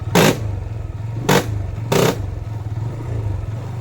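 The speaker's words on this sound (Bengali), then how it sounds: "ক্লাচটা সারিতে সময় ক্র্যাক ক্র্যাক করি আওয়াজ করে" Motorcycle with a worn chain and sprocket on clutch release: three loud, sharp cracking bursts over the steady throb of the idling engine, close by.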